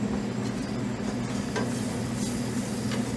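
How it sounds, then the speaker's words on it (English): Steady close sizzling of chicken frying in a pan, a constant hiss with occasional faint clinks of stirring, no voices. "I'm starting to hear that sizzle again."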